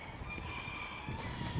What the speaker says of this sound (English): these roosters just won't shut the fuck up.